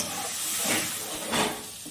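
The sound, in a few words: frying spice paste with a little water in a pan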